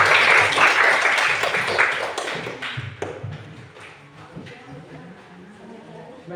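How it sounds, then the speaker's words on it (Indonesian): Applause from students and attendees after a group presentation at a teacher-training session, starting fairly loud and thinning out into scattered claps and room noise. "kita berikan tepuk tangan"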